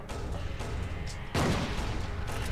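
Gunfire in Silent Hill 2, a loud burst of shots mid-clip over a busy, noisy game soundtrack.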